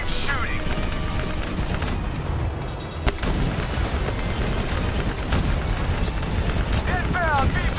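Continuous heavy gunfire and explosions from the Black Ops 3 campaign blast nonstop in a dense, loud wash, with sharp reports cutting through and shouted voices briefly heard over the battle.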